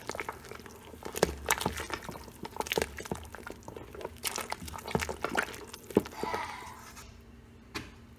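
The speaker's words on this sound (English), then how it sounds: "I'm going to stir" Egusi soup with ground melon seed being stirred in a cooking pot, giving soft wet squelching and sloshing with scattered light clicks of the spoon, close and steady with no voices.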